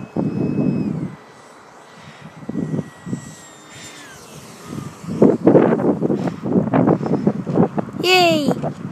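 An E-flite F-4 RC model jet coming in to land on a windy day, its whine rising and falling under heavy wind buffeting, with excited voices talking over it and a sudden squeal near the end.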